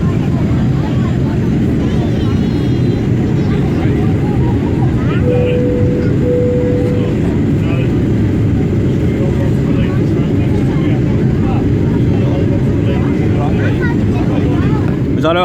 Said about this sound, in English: Was that a good takeoff for you?